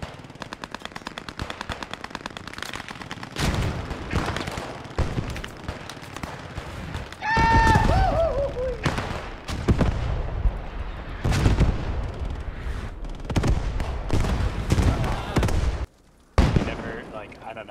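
Machine-gun bursts and heavy, booming shots hammer at a Cromwell tank in the WWII shooter Post Scriptum during the Nijmegen campaign. The repeated, loud volleys are spaced by short pauses and punctuated by explosive impacts, with occasional talk in between.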